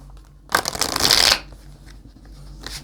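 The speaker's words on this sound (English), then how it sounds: "deck doesn't want to shuffle today, apparently" A deck of tarot cards gets a quick riffle shuffle, a crisp burst of flapping card edges lasting under a second, then a soft tap as the deck settles.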